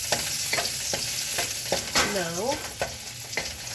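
Baked tomato and garlic sizzle and fry in oil while a utensil stirs and scrapes the pan in short strokes; a brief word is spoken.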